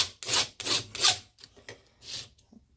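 Hand file rasping across chainsaw chain depth gauges, several firm back-and-forth strokes close up, each a bright scraping rasp, with shorter lighter strokes trailing off at the end.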